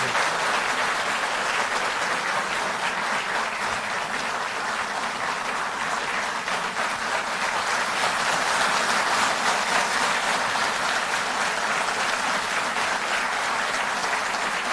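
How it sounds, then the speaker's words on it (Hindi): Loud, steady applause from a large indoor audience welcoming the Delhi Chief Minister at an official ceremony, dense continuous clapping that holds for the whole stretch without voices on top. "तालियां बजती रहें जब तक सर यहां पहुंचे।"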